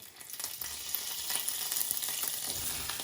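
Butter sizzles in hot oil in a frying pan, a dense crackling hiss with scattered pops, close and steady, no voices.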